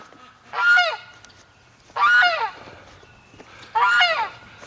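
A male goose at a swamp-side homestead honks in three loud, harsh bursts, each about a second long, spaced roughly a second and a half apart, close to the listener with quiet background between calls.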